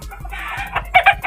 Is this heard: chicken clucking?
yes